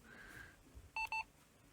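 Two short electronic beeps in quick succession from a Sharp EL-620 Elsi mate voice-synthesized calculator, clear and close against a quiet background.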